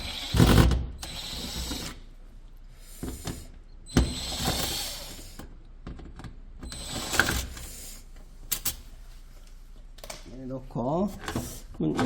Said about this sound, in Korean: 요 나사 두 개를 풀어요.